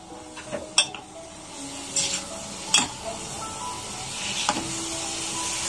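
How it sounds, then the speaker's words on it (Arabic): Soaked freekeh and vegetables sauté in a pan with a steady, close sizzle, broken by a few sharp scrapes and clinks from stirring. "هشوح كله مع بعضه"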